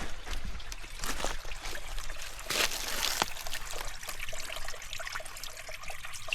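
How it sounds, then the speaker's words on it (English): Stream water flowing and trickling steadily while water bags are filled during a thru-hike on the Loyalsock Trail, a soft, continuous close-up gurgle with a couple of brighter splashes, no talk. "Flowing nicely, filling up the bags pretty quick."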